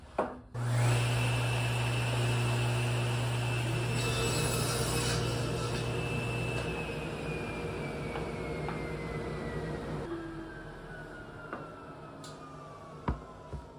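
A plywood board being cut in half with a power saw: a loud, steady motor whine begins abruptly and runs for about ten seconds with gritty cutting noise and a slowly falling pitch, then spins down, followed by a few clicks.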